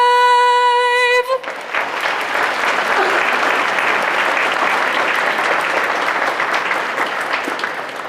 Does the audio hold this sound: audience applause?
yes